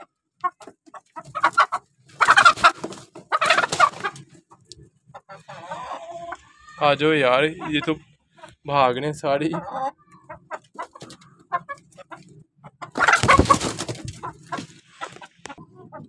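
Hens cluck and squawk in bursts up close, with a rooster-like drawn-out call in the middle, while people talk and move around nearby during lice spraying.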